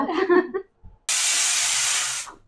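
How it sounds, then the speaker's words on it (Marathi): Pressure cooker whistle releasing steam during cooking of black pea usal, a loud sustained hiss bursting out after a voice speaks, lasting about a second before cutting off. "ही बघा ही 10वी शिट्टी."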